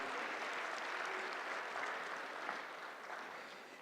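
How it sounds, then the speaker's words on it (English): Forum attendees at a regional affordable housing event clap for a panel, a fairly quiet but steady wash of applause from the room that tapers slightly at the end. "How about another big round of applause for Tim and the gang?"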